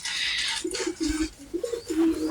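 Pigeons cooing softly in a few repeated low coos, close by, over a light rustling background hiss.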